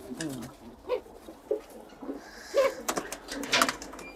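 Pigeons coo close by in a loft, several soft, rhythmic throaty calls repeating over a few seconds, with some rustling and shuffling in between.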